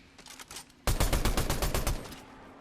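Rapid burst of gunfire in the Fortnite Zero Build mode, a quieter volley first and then a loud, close stream of about a dozen quick shots that tails off after two seconds.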